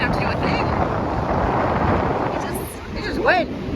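Strong wind buffets the microphone in a low, constant roar on a blustery outing flying a small Spider-Man kite, with a brief faint voice near the end.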